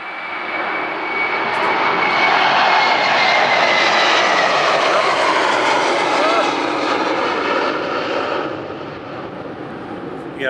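A loud aircraft engine roars at the end of the runway at Birmingham Airport, a sustained rumbling swell outdoors that holds for about eight seconds before easing off.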